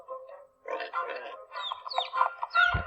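Farmyard birds call: clucking chicken and chick chirps in bursts, with a rooster's crow rising near the end and a low thump closing it out, all close and clear against a silent background.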